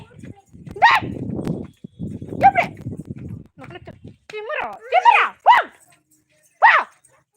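A dog barks and whimpers in several short bursts, close and fairly loud, interleaved with people talking nearby.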